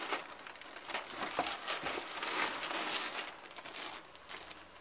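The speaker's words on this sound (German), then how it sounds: "Tüte schon mal geöffnet." The plastic bag holding RC car body parts crinkles and rustles as it is handled, with continuous soft crackling close up and no talk.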